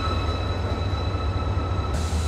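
NLC locomotive GMU37173 hauling a coal wagon passes at a Pakistani railway station, giving a steady loud rumble with a sustained metallic whine and no voices.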